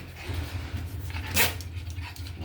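A pet dog gives a single short close bark amid low panting and shuffling, with a faint hum in the background.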